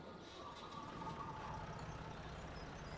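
Massey Ferguson 135 tractor engine in a video game, a steady idle with a low, continuous hum and some faint mechanical rattle, moderately loud and unbroken throughout.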